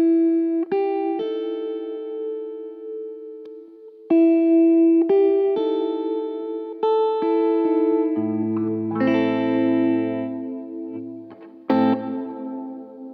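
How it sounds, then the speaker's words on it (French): Guitar chord played through two stacked reverb effects, struck several times with sustained, shimmering tails; the later strums swell into a thicker, washy ring with lower notes added, with no talking. "Quand on rajoute la deuxième reverb, là c'est encore autre chose."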